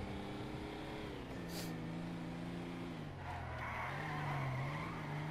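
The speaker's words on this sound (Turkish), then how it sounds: "Ya araba çok ağır o yüzden kayıyor." A heavy car slides on a slippery road in GTA V, its tires squealing in drawn-out, wavering tones over a steady engine drone, loud and close.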